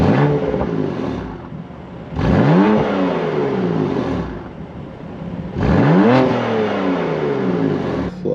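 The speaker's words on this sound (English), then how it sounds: "So we're gonna start off by doing some revs in efficient mode." A BMW M4 with a titanium exhaust revving in efficient mode: two loud, close blips that climb sharply in pitch and fall back to a steady idle between them, each rev sharp and throaty.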